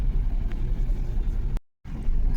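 Low engine rumble of vehicles idling and creeping in a traffic jam near Trimbakeshwar, Nashik, heard from inside a car as a steady droning hum that briefly cuts out to silence before resuming.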